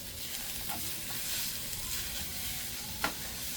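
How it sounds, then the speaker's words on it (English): Liver sizzles in a frying pan as homemade dog food cooks, a steady crackling hiss with occasional stirring clicks and one sharper scrape near the end, heard alone and fairly quiet. "I'm cooking your liver. It's almost ready, Marley."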